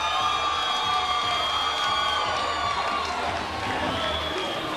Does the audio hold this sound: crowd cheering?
yes